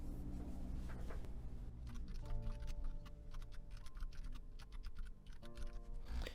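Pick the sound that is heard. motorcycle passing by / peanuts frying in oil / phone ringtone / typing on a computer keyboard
typing on a computer keyboard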